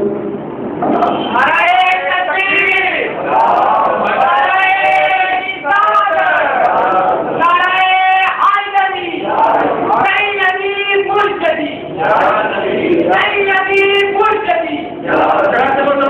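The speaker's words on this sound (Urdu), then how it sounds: "نعرے لگانے والے نے تو بڑی محبت سے یہ نعرہ لگایا" A crowd shouts a religious slogan in response, loud rhythmic chanted calls in repeated bursts, each a few seconds long with brief gaps between, voices massed and close.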